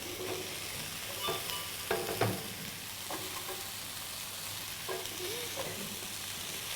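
Courgettes sizzle in a frying pan with a steady, moderate hiss, broken by a few light knocks and scrapes of stirring and no talk.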